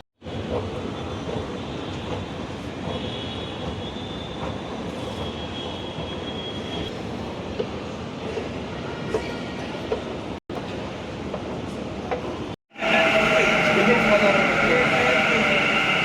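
A Bangalore metro train rumbles steadily at KSR station, a continuous broadband roar with faint squealing tones, briefly cut, then a brighter louder stretch near the end; people talk over it.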